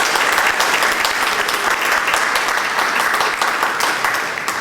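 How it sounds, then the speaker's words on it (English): A round of applause for a chef at a university molecular gastronomy demonstration: steady, dense clapping from an audience that holds for several seconds and thins slightly toward the end. "So I have a nice round of applause for Chef Lauren."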